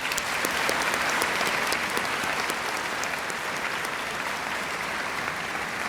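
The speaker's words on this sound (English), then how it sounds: "Let's give them a round of applause." A graduation audience at the Riverside 2019 ceremony applauds standing honor-cord students, a sustained wash of many hands clapping, even and fairly distant, with no pause across the stretch.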